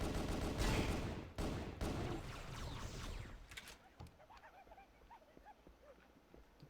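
Fast-firing weapon in Halo MCC workshop single player, a loud burst of rapid shots at the start that trails off into scattered fainter pops and clatter.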